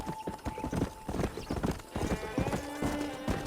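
Rapid clip-clop of horse hooves near a corral in Red Dead Redemption on PS5, close and steady, mixed with game ambience and a brief tonal hum.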